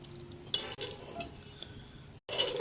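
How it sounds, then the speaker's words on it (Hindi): A ladle stirs beef nihari broth as flour paste is worked in, giving faint scraping and clinking against the pot with a few sharper metallic knocks, quiet and close with no talk. "और चमचा मुसलसल हिलाते रहना है ताकि गुठलियां ना बने"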